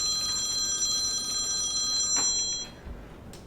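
A telephone rings steadily at the nurses' station of a hospital intensive care unit, a continuous bright electronic trill that stops after a couple of seconds, followed by faint handling noise.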